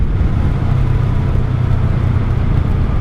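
A 1984 Honda Shadow VT700C motorcycle engine runs close by with a steady, loud low rumble and whir, holding an even pitch for a few seconds with no clear rise or fall of revs.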